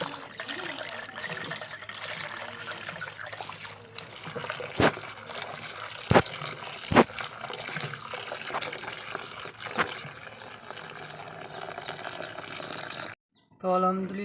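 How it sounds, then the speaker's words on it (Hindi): Spinach and saag greens being washed by hand in water, with trickling, splashing and sloshing up close, several sharper knocks of a vessel, and a brief burst of noise at the end. "पालक भी धो ली है, साग भी"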